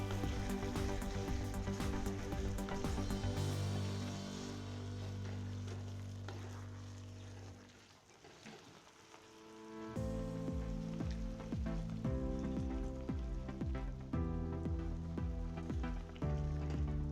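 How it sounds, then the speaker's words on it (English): A pan sizzles and bubbles steadily as curry paste is stirred into water to form a thick gravy, with a soft crackling hiss that dips briefly midway before resuming. "I will stir this paste into the water until it becomes a nice and thick gravy."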